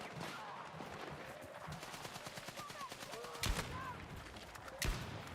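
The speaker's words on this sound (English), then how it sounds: "headshot with the Colt" Gunfire in the video game Battlefield: a steady rattle of distant automatic fire with two sharp, louder single shots standing out near the end, all at low level.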